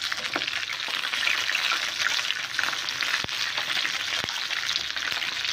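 Chicken pieces for zinger burgers fry in hot oil, producing a dense, steady close-up crackle and hiss with a couple of sharp taps, and no talking.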